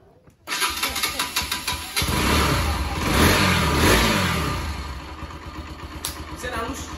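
A Yamaha RX King motorcycle engine fires up and revs in short repeated bursts, then holds a louder sustained roar before easing off, close by and loud, with no talking over it.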